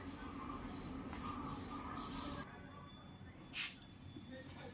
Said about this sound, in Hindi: ट्रेन आ रहा है, 1 मिनट